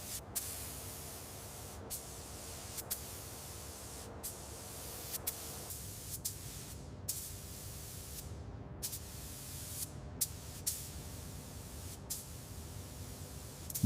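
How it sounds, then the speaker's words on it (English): Gray primer sprayed across a restored 1935 Bf 109 airframe, a steady broad hiss of spray running throughout with brief pauses and short clicks, fairly quiet and close, no voices. "Gray primer coating is applied uniformly across the entire airframe"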